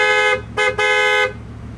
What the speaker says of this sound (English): What does a horn sound like in the Bugatti Veyron?